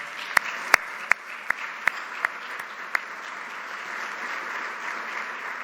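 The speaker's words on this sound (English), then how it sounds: "So let's give them a round of applause." Steady audience applause at a logistics speaker-series event, honouring a class project, with a few sharp, close individual claps standing out over the broad clapping before it settles into a softer wash.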